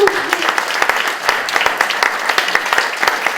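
At a dance gala, the audience applauds young dancers who completed five years of dance. Dense, continuous clapping from a large crowd fills the hall, with a brief voice at the start.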